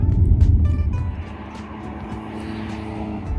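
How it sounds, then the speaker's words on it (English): An overhauled Mitsubishi Starion 1980s turbo car accelerating hard, a loud, steady engine drone with rising tones as it pulls through the gears, heard from close by. "This particular car has had a recent overhaul, so the turbo is pulling really strongly"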